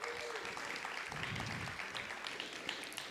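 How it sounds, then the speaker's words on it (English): A story slam audience in Montclair applauds in a steady, dense wash of clapping that sounds somewhat distant and soft, with a faint voice briefly under it. "Give her a round of applause."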